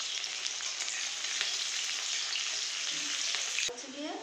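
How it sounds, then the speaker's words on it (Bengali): Chopped onion hits hot oil with black cumin seeds and sizzles loudly and steadily, a dense crackling hiss that drops off abruptly near the end. "এবার দেওয়া হলো পেঁয়াজ কুচি।"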